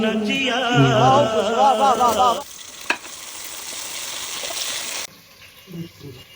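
Potatoes and chui jhal frying in a pan while a duck curry is being cooked. A strong, close sizzle takes over after an opening stretch of tonal, voice-like sound, then cuts off abruptly near the end.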